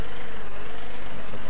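A tractor engine in the video game Farm Expert 2017 runs with a constant loud, dense drone, a steady rumble with no pauses.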